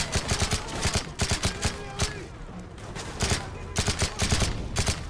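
Rapid bursts of automatic gunfire from a weapon with heavy recoil in the video game Call of Duty: Modern Warfare 3, loud clustered shots separated by short pauses.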